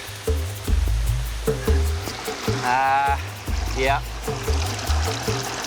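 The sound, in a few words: running water of a jungle stream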